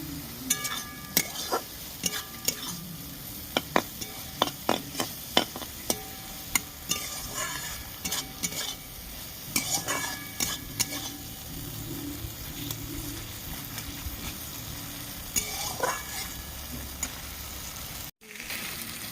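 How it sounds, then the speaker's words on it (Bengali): Spice paste for crab curry sautéed and stirred in a pan, with repeated sharp scraping strokes of the spoon against the pan over a continuous low sizzle, close by and steady throughout. "ভালো করে একটু কষিয়ে নেব"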